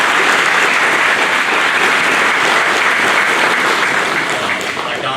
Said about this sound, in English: I'm going to give a round of applause to Scott and Dane